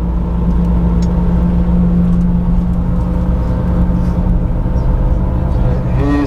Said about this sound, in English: Here's some of the traffic.